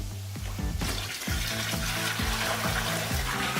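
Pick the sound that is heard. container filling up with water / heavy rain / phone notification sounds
container filling up with water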